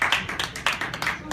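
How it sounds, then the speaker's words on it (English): A live audience gives a short round of applause for a motivational speaker's guest, a quick patter of irregular claps fairly close. "Give Ann Pratt a round of applause."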